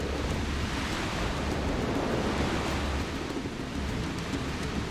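Ocean waves while sailing in the Paper Mario video game, a steady, dense wash of surf and wind-like noise that holds even and continuous throughout.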